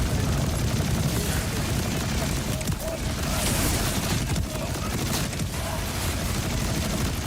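Rapid, continuous gunfire from a laser-like gun in Borderlands 4 pours out loud and dense, a steady stream of shots with crackling impacts and no pauses for the full stretch.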